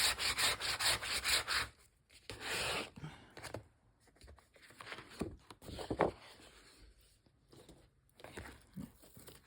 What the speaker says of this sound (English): printing over the stencil, you want to use a squeegee, or a credit card works for this